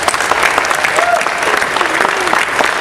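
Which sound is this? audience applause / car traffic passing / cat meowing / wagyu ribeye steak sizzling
audience applause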